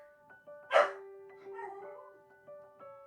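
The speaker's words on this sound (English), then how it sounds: "My dog's being kind of loud in the other room." A single loud bark from a dog in another room bursts out near the start, followed by softer whimpering yips and some indistinct voices in the background.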